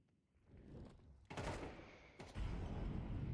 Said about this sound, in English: First few bullets exchanged